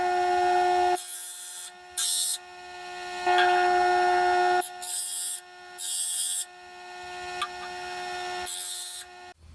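Rikon 8-inch slow speed grinder sharpening a woodturning skew chisel, a steady motor hum with repeated bursts of gritty grinding as the steel touches the wheel, close and fairly loud.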